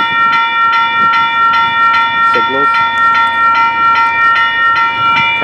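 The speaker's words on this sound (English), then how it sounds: "Did not see this train coming. There she goes, off to Haverhill." A train bound for Haverhill rolls past a level crossing close by with a steady rhythmic clatter of wheels over rail joints, loud and continuous, with a brief tonal squeal partway through.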